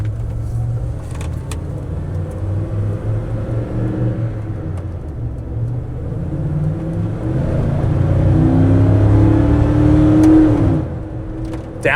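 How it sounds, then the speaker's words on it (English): A 1995 Ford F150 Eddie Bauer 4x4 pickup with a 5.0 V8 and 67K miles drones steadily from the cabin, then its engine swells into a louder, rising roar under heavy throttle before easing off with a downshift near the end. "Downshifts like it should when we get heavier into the throttle."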